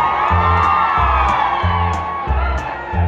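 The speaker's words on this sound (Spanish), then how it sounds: "Si esta rola les gusta, que el pinche grito se escuche hasta Ciudad Guadalupe" Concert crowd at a norteño show in Nuevo León shouting and cheering, a dense sustained roar with whoops, under a steady thumping low beat from the band.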